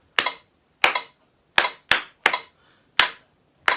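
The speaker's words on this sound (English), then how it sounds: "So you've got to have a metronome." Sharp, loud, evenly spaced clicks sound alone in a steady beat, about one every two-thirds of a second, during a rhythm lesson using a metronome.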